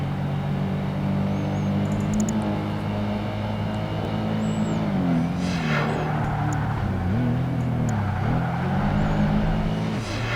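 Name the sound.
sports coupe racing in Project Gotham Racing 2 video game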